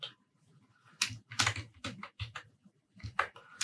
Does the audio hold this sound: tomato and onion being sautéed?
no